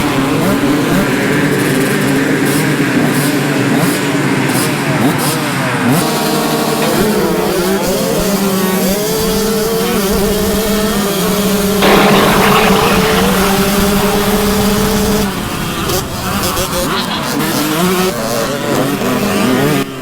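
Two-stroke motocross bikes race at Glen Helen, a loud, continuous buzzing engine whine near the rider with rising and falling revs through gear changes and throttle blips over about twenty seconds.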